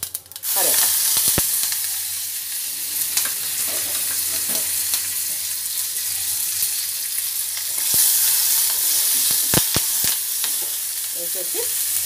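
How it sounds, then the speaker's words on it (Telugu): Mustard seeds, cumin and two dry red chillies crackle and sizzle in hot oil for a coconut-yogurt chutney tempering, a steady close frying hiss broken by sharp pops and a few spoon scrapes. "నూనె కాగిపోయింది, ఆవాలు వేద్దాము. జీలకర్ర, రెండు ఎండుమిరపకాయలు,"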